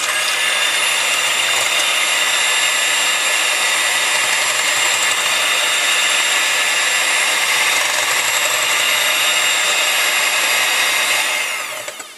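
An electric mixer whirs loud and steady as it whips egg whites and vanilla until frothy, running nonstop at close range before winding down at the very end.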